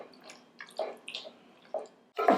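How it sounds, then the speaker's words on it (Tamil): Water poured in small splashing bursts into a pan of chicken masala for Thai green curry, quiet intermittent glugs and drips separated by short pauses, ending in a louder pour. "இப்போ கொஞ்சமாக சிக்கன் வேகிற அளவுக்கு தண்ணி."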